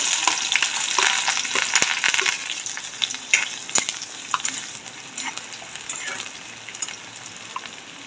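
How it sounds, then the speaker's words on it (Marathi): Finely chopped onion hits hot oil in a home kitchen pan and sizzles with a loud crackling hiss. The sizzle gradually eases, with a few sharp stirring clicks along the way. "तेल गरम झालेला आहे, कांदा टाकून घेऊ।"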